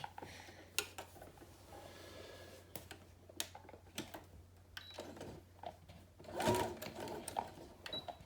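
Home sewing machine stitching a homemade fabric face mask, going back and forth over the elastic, with quiet intermittent runs of whirring and ticking interrupted by pauses and handling clicks, louder near the end.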